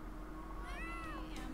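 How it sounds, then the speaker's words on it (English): Cats in The Sims 3 give a soft, drawn-out meow over a low steady game hum, faint and brief. "Oh, there's cats everywhere."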